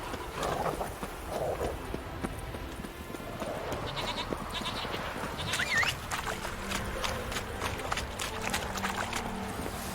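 Roach the horse gallops in The Witcher 3: Wild Hunt, a steady rapid clip-clop of hooves running close throughout, with bleating sheep or goats and other game ambience in the background and no talking.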